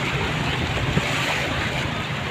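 Steady broadband rush of sea waves breaking on the beach at Cox's Bazar, continuous and fairly loud with no pauses, a faint boat-like hum underneath and no talk.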